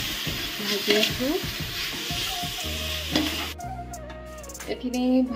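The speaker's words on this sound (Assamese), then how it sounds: "নাৰিকলখিনি ভাজি আছোঁ।" Grated coconut frying in a pan, with the steady hiss and crackle of the sizzle under repeated scraping of a utensil stirring it, close and fairly loud.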